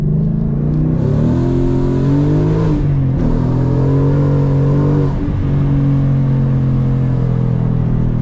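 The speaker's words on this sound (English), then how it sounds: "Look, oh my god, the rev, auto rev." A 2021 Ford Mustang GT engine revs up and down close by, loud and rumbling, with rising and falling pitch through repeated climbs and drops over several seconds.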